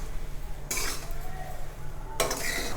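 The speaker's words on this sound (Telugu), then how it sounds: "లో ఫ్లేమ్లో మాడకుండా కలుపుకుంటూ ఫ్రై చేసుకోవాలి." Puffed rice fried with turmeric in oil over a low flame and stirred in a pan, with scraping spoon strokes and a sizzling hiss running underneath, loud and close.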